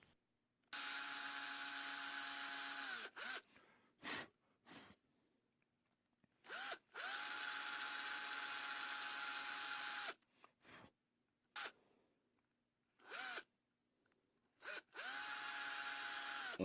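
A power drill bores through battery cell tabs in three long whirring runs, each winding down at the end, separated by short bursts and handling clicks in a quiet room.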